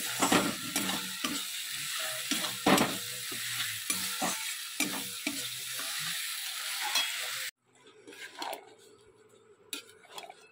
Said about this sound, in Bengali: বাঁধাকপিটাকে একটু গরম করব